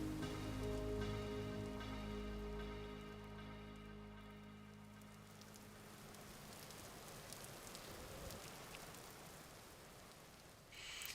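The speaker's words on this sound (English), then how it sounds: "God, the rain's back," Rain in the video game Vintage Story, a soft continuous patter of drops on surfaces that rises as a low droning tone fades out, quiet throughout with nobody talking.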